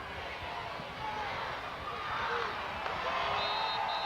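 A home soccer crowd of over 12,000 counts down the final seconds of a match, a steady roar from a large stadium audience heard at a distance beneath a commentator's voice.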